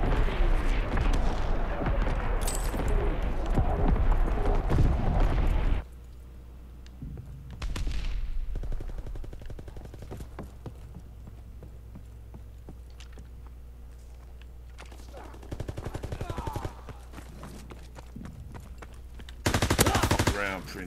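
A video-game artillery strike and gunfire open with a loud, chaotic burst of explosions and rapid fire, then drop to scattered distant shots and rumbling blasts, with a short heavy burst near the end.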